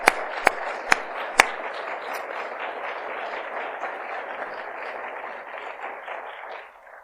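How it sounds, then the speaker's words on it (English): Audience applause at a university State of the University address, steady dense clapping filling the room for about seven seconds, with a few sharp louder claps near the start before the sound tapers off at the end. "well-deserved applause"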